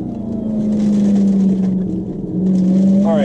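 A Dodge Charger Hellcat Redeye, a supercharged 4,600-pound car built from a V6 rental, roars loudly and close on the road in a sustained deep engine drone that rises in pitch as it accelerates near the end.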